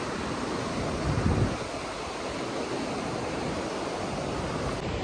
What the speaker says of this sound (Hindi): ये सुंदर सा वाटरफॉल है, जैसे कि आप देख सकते हैं।